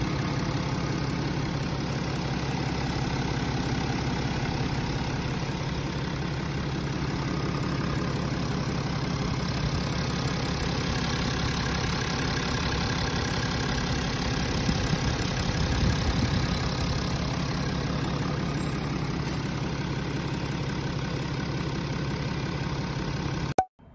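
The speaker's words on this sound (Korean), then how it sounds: "자, 이제 이 X5는 시동이 다 걸렸고요" A BMW X5 30d diesel engine idles after a timing chain replacement, a steady, even low rumble with a faint ticking clatter, holding constant for the whole stretch before cutting off abruptly at the end.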